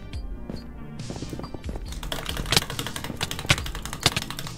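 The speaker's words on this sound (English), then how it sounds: "I'm hitting right click right now." Rapid, irregular clicking from a computer mouse and keys during a Hive Skywars match, light tapping that grows denser and sharper midway, with a few louder clicks standing out.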